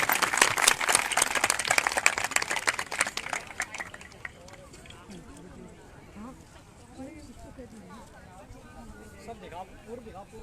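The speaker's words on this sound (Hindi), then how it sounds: "जोरदार तालियां।" Crowd at a protest gathering of lecturers in Haryana clapping loudly and rapidly for about four seconds, then the applause dies away into murmuring voices and speech in the background.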